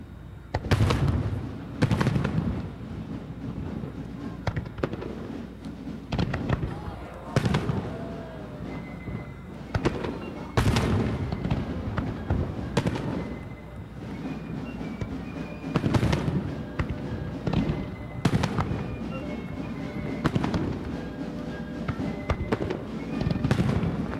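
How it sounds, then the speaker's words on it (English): Fireworks launched over Lake Michigan near the War Memorial at a July 4 display, a run of loud booming bursts at irregular intervals with crackling tails and rumbling echoes between them, no voices. "The fireworks being fired from just slightly northeast of the War Memorial."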